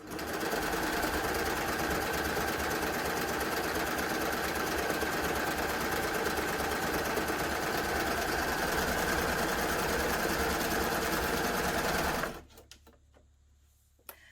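A Baby Lock Gloria combination cover stitch and overlocker runs at speed through doubled denim, a steady rapid mechanical whir for about twelve seconds before stopping abruptly, followed by near silence and a small click.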